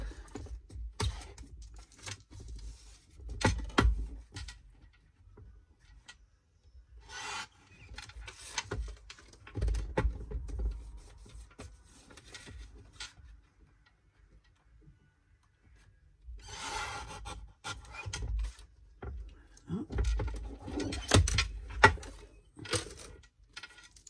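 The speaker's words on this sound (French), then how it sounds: "Là, je vais faire ma découpe." Card stock being cut out by hand while making a greeting card: irregular close clicks, taps and scraping snips in bursts with pauses, quiet and alone.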